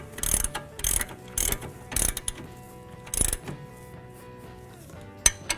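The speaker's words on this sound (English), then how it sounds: "take my 24mm socket and ratchet and 21mm wrench. Hold the bolt with the wrench and tighten down the nut" Socket ratchet clicking in short bursts as a nut is tightened onto a front shock absorber bolt on a 2009 Ford Escape, several separate rounds of sharp ratcheting with pauses and a final metallic tap.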